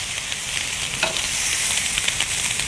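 Pork chops for a grilled peach pork chop dish sizzle steadily on a grill, a close, even hiss with faint crackles and pops throughout.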